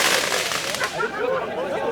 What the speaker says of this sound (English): It's firework.